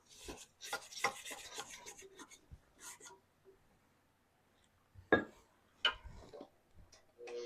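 A spatula scrapes down the sides of a mixing bowl of chocolate zucchini cake batter with powdered sugar, making quiet, close rubbing and scraping strokes in short bursts separated by pauses.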